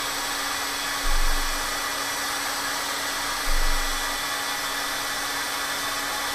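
A heat tool blows steadily over a mixed media art journal page, giving a constant loud whirring hum with two brief low thumps as it is moved.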